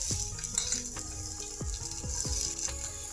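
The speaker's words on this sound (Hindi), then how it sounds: "अब हम इसमें बारीक कटे हुए प्याज डालेंगे।" Finely chopped onions hiss and sizzle in hot oil in a home kitchen pan, a steady bright crackle broken by a few clinks of a spoon against the vessel.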